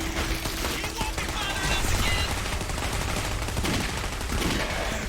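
Rapid bursts of gunfire and chaotic combat sounds fill the Clive Barker's Jericho video game, dense and continuous throughout the short stretch, with voices mixed in.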